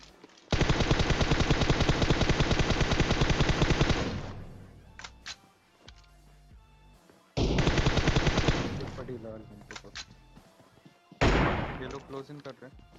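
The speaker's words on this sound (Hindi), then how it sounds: "जब तक मैं गाड़ी पे गोलियां बर्बाद कर रहा था" Long bursts of rapid automatic gunfire in PUBG Mobile, aimed at a vehicle, with two extended volleys and a shorter one, separated by scattered single shots and clatter.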